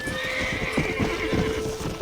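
Horses in Red Dead Redemption: Undead Nightmare whinny over a steady, close clip-clop of hooves, with the neighing and hoofbeats overlapping for the whole stretch.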